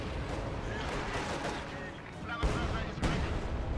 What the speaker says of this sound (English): I don't know why I called a barrage right in front of him there